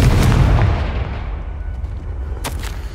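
A booming fire-spell explosion in Hogwarts Legacy erupts loud and close, then rolls off into a decaying rumble, with a couple of sharp crackling pops near the end.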